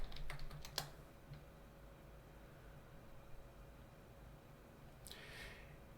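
Quick keystrokes on a computer keyboard while signing on to a virtual machine, a short burst of clicks at the start and another brief patter near the end, faint against steady quiet hum.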